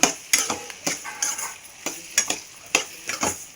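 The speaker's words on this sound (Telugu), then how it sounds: "ఇప్పుడు ఇవన్నీ కలుపుకుందాం ఇలా" A spoon stirs turmeric through a tomato and egg curry in a pan, giving repeated scraping and clinking strokes at an uneven rhythm over a soft sizzle, close by with no talk.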